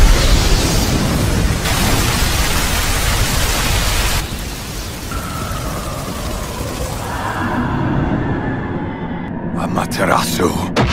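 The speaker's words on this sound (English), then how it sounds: "Fire style! Fireball Jutsu!" A fire-style fireball jutsu attack in a 3D Naruto fight between Itachi and Sasuke erupts as a loud, sustained roaring blast of broadband noise, which later thins into a lower rumble with faint tonal effects.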